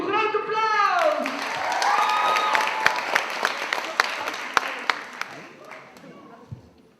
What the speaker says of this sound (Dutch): Oké, mensen, de film Just Like You, groot applaus!